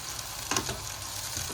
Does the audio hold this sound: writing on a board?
no